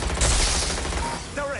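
Rapid bursts of gunfire from the Watch Dogs Legion video game rattle loudly for about a second, then give way to a brief tonal game sound near the end.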